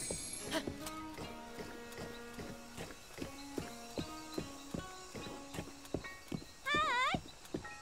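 Horse hooves clip-clopping in the video game Zelda Breath of the Wild, a steady close trot under game music, ending in a brief whinny.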